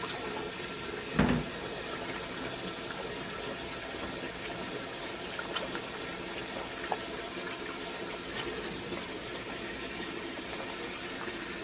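Salted napa cabbage for kimchi is rinsed under a running kitchen tap, giving a steady close wash of flowing water with one brief louder splash near the start and a few faint knocks.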